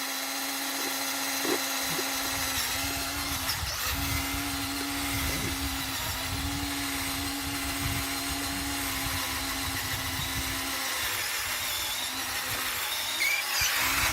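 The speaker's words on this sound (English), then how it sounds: "Maybe I just use my regular carpenter's drill, which is for wood" A carpenter's power drill whines steadily for a long stretch, boring into a maple tree for sap tapping, a continuous motorized drone with faint rumbling underneath.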